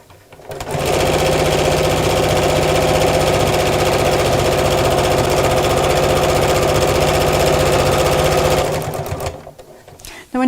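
A sewing machine stitches steadily around the seam of a thick, layered craft bag, a loud continuous whirring hum that runs without a break for about eight seconds, then stops.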